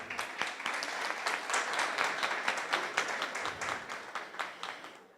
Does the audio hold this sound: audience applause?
yes